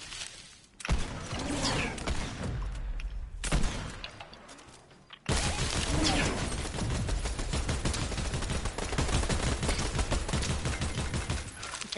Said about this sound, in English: Let's see if I can shoot my cannon at him.